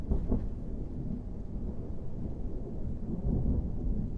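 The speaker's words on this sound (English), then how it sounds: "There is a bit of rain, but we can static fire in the rain" Rain falling steadily outdoors at a launch site, a dense low rumbling wash of drops that stays constant throughout with no pauses and no voices.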